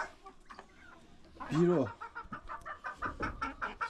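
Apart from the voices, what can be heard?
chickens clucking in a farm flock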